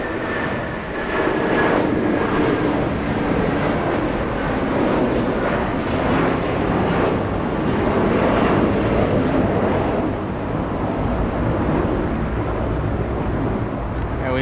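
A cargo freighter jet departs Los Angeles International Airport, its broad engine roar steady and loud throughout, with a faint whine sweeping across the rumble.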